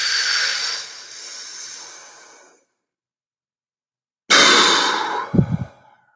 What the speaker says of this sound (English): So start our first hyperventilation breath